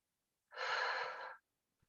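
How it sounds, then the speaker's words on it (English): One long, steady breath exhaled during a guided relaxation session, soft and close, lasting under a second with a faint breathy hiss and no talk. "So just a couple deep breaths on your own."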